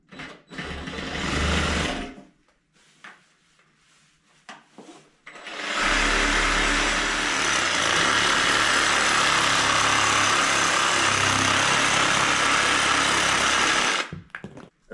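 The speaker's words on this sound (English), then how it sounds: "you see I'm using the Sawzall" A Sawzall reciprocating saw cuts through PVC pipe during a leak repair, with a short, loud buzzing burst, a pause, then a long, steady, rattling run close by.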